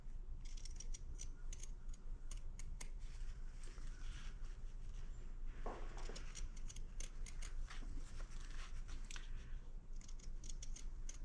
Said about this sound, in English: I want to use my pinking shears